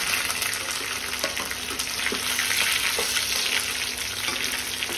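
Ten to fifteen garlic cloves fry in a pan with dried red chillies, giving a loud, dense, continuous sizzle with light stirring underneath. There is no talking.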